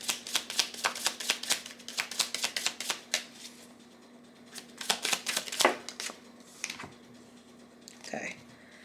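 Tarot cards shuffled in a quick, rhythmic riffle of crisp snaps, then a pause and a few more cards drawn and laid down with soft slaps, close by, while a person talks softly.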